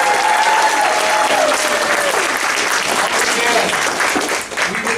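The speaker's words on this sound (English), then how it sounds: "applause" Loud, sustained applause from an audience after a middle school play, dense clapping mixed with crowd noise and a few cheers, holding steady for several seconds before easing slightly at the end.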